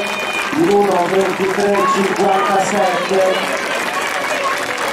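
Crowd applauding at an Italian track cycling championship race, a broad steady wash of clapping with an announcer talking continuously over it.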